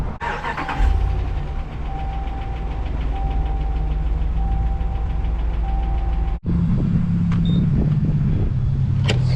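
An engine runs on old gas treated with octane booster, a close, steady mechanical rumble with a knocking tone, briefly cutting out before resuming at a lower pitch.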